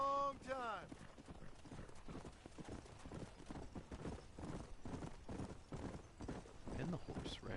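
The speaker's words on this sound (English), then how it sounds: "The horse riding is a little bit different." Steady clip-clop of horse hooves while riding in the Red Dead Redemption video game, a continuous trotting rhythm with a brief neigh at the start, mixed under ongoing talk.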